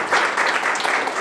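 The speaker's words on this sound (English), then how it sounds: "Can we get an applause for her?" Audience applause at a tech conference spotlight session, a steady wash of many hands clapping that holds at a fairly loud level for just over a second, with no talking over it.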